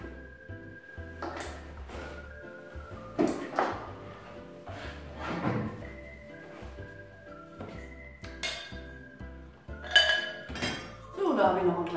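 Ceramic flower pot covers clinking and knocking together while being unpacked from a box, a series of irregular bright clinks and clunks with rustling between them, fairly close.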